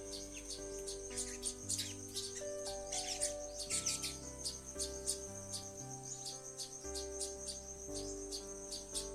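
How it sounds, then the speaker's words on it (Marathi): A sparrow feeding its chick while weaver birds eat nearby: quick, high chirps repeat in short bursts throughout, fairly faint, over soft tonal background music. "चिवताई पिल्लाला घास भरवत आहे आणि सुगरण पक्षी चारा खात आहेत"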